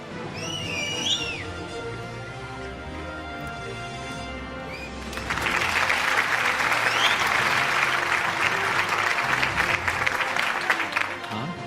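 Audience applause at an annual award show swells midway for an award recipient, a dense wash of clapping following earlier music and voices, loud and sustained.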